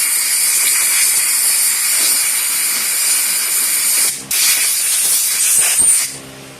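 Compressed air blasts through the fuel solenoid of a Kohler 23 hp engine's carburetor, making a loud, steady close hiss that breaks briefly and resumes before tapering off.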